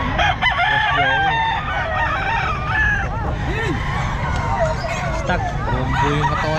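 A young rooster (stag), a white streamer hennie, crows loudly at the Bocaue pet market, its drawn-out calls rising over the crowd's babble while people talk nearby.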